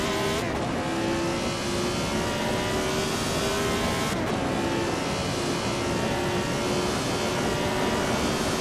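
Lotus 72 racing car in Assetto Corsa, its engine screaming loud and steady at high revs through the whole run, with brief gear-change dips and tyre noise underneath.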